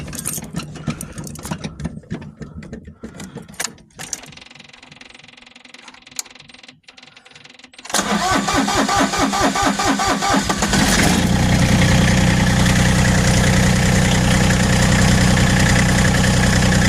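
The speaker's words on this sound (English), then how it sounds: "get the tractor started" A diesel engine cranks with sputtering bursts, then catches and roars into a loud, steady idle that continues to the end.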